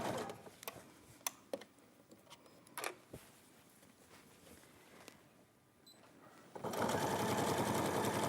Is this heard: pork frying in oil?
no